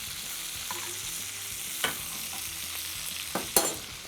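A beef tenderloin roast being basted in a hot pan, with a soft steady sizzle and occasional spoon clinks and scrapes, close up and with no voices.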